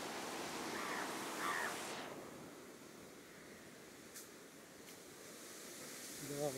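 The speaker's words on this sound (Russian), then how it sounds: "И бескрайний океан." Steady broad wash of ocean surf below a clifftop at Trincomalee, Sri Lanka, distant and continuous, with a faint rustle of wind over the microphone.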